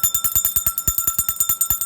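A small metal bell shaken quickly and evenly, giving a bright rapid jingle of about a dozen strikes with a sustained high ring, loud and close.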